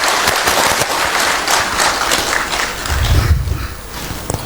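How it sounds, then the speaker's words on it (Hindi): Dense audience applause at a stage event welcoming a minister, loud and steady from start to finish, with a brief low rumble near the end and no talk over it. "ताली बजा के मंत्री जी का स्वागत कीजिए सर"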